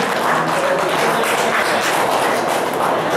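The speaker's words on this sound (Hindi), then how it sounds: "तो मैं चाहूँ कि भरपूर तालियों में आप उनको आवाज़ दें।" Audience at a mushaira in Malegaon applauding steadily, a dense, even wash of clapping filling the hall without pause.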